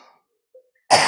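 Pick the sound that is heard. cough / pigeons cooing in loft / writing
cough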